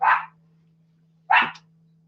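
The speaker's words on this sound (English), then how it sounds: "Foxy's going to bark for a minute, and I apologize for that." Foxy, a dog indoors, gives two sharp, loud barks about a second apart against a quiet background with a low steady hum.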